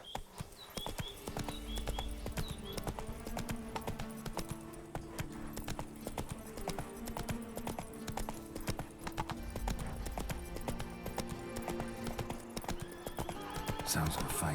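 The horse Roach galloping in The Witcher 3, with rapid rhythmic hoofbeats and occasional whinnies over a music score, and a voice speaking at times.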